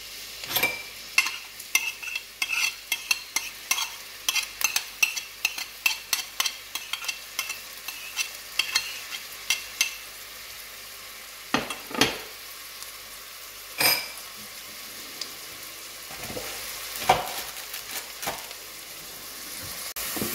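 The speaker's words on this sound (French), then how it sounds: "on va faire revenir comme d'habitude hein," Onions and garlic sautéing in oil in a pot for a home-cooked loubia, with steady sizzling and repeated stirring clinks of a utensil against the pan, close and fairly loud, with no talk.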